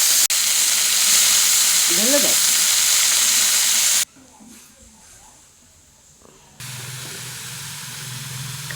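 Pumpkin leaves hit a hot pan of garlic and black cumin with a loud, steady sizzle for several seconds, then the frying quiets and settles into a lower bubbling hiss; a voice speaks briefly.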